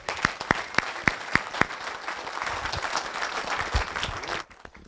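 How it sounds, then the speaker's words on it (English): A room of people clapping for a participant at a coaching education session, starting with a few loud, distinct claps that swell into steady dense applause before cutting off abruptly. "Give him a round of applause."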